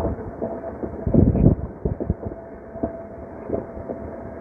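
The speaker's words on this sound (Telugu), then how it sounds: "ఇది బ్రాంచ్ లైన్లో నుంచి మెయిన్ లైన్లో కలిసేటప్పుడు ఒక సౌండ్ వచ్చిందండి." A Lingampalli intercity train on the Guntur–Vijayawada route crosses from a branch line onto the main line, heard from on board as a rumbling run with bursts of heavy clattering over the points and irregular wheel knocks.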